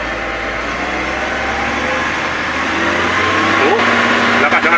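A backhoe engine with a repaired ignition fault starts and runs, a steady mid-pitched rumble that grows louder and rougher near the end, with someone talking over it.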